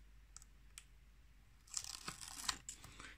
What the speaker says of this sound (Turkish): Şimdi bantlarımızın üst kısmını çıkaralım.